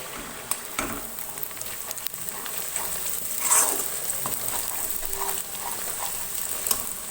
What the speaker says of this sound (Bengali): পেঁয়াজটা ভেজে আমি দেখাচ্ছি।